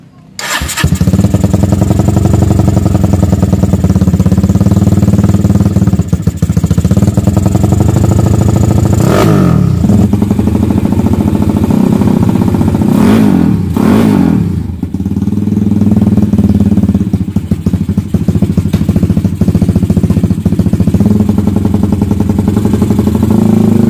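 Tiger Revo 250cc motorcycle with a Herex exhaust, engine running loud and close with a rough idle, rising and falling revs through blips around the middle, continuous throughout with no talk.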